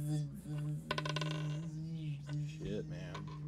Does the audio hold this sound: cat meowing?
no